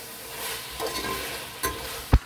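Mutton being stirred into masala in a pan, a low steady sizzle with a few spoon scrapes and one sharp clack near the end, no talking.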